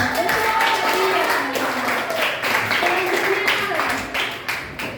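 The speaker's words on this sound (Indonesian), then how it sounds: "Berilah tepuk tangan untuk dia." A classroom of students claps for a classmate, a few seconds of scattered, uneven clapping mixed with chatter and voices throughout.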